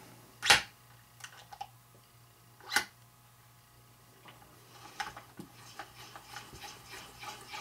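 A Hornady Cam-Lock case trimmer cutting a 223 Remington brass case, with a few sharp scraping bursts of the cutter against the case mouth followed by quieter, intermittent rasping and clicks over a low steady hum.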